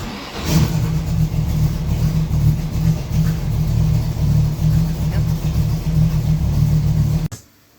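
A car engine runs nearby with a steady, loud rumble and slight revving, holding constant for several seconds before cutting off abruptly at the end.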